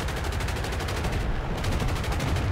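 A P-47's guns firing in War Thunder: a loud, sustained stream of fast, evenly spaced shots that keeps going throughout.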